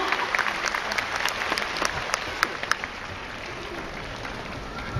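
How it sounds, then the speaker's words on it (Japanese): Hall audience applauds steadily after a karate kihon ippon kumite demonstration by three performers, a full even wash of clapping with a few sharper claps, thinning toward the end. "どうぞ皆様、3名の演舞者にもう一度盛大な拍手をお送りください。"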